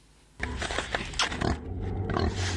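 Pigs grunting and squealing in pens behind a high fence at an underground pig farm, a loud, close chorus of overlapping grunts that starts abruptly and continues with a steady low hum beneath.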